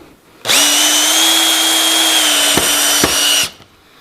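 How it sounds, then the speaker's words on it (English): A cordless drill set to maximum clutch drills straight through timber, a loud steady whining motor running for about three seconds with two brief clicks before it cuts off. "it drills right through the timber"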